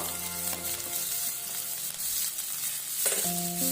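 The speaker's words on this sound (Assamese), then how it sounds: "চাওক তেলখিনি পূৰা গৰম হৈ গৈছে। এতিয়া মই দিছোঁ পিঁয়াজখিনি সৰু সৰুকৈ কাটি লৈছোঁ।" Small-chopped onions frying in fully heated oil in a pan, a dense steady sizzle, close and constant, with faint tonal music playing underneath.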